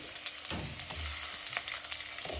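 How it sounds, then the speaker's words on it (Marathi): Stuffed brinjals frying in oil over low heat with garlic, cumin and mustard seeds, giving a steady close sizzle with small pops and stirring knocks and no voices. "आता आपण एक एक वांग तेलात टाकू"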